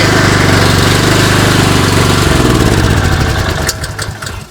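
A machine's engine runs loud and steady, then revs up, its pitch and rhythm shifting as it accelerates toward the end.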